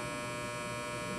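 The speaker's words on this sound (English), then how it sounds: "Your fucking dryer scared me." Inside a horror video game, a clothes dryer runs with a steady, fairly loud electrical hum that holds unbroken for a moment, with no voices over it.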